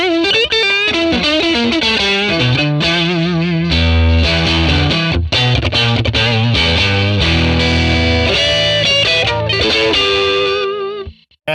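Electric guitar, a Stratocaster, played through a Fender 1957 Tweed Bassman amp model on its thin channel, ringing out a continuous run of distorted chords and single notes, loud and close with no voices, fading at the end.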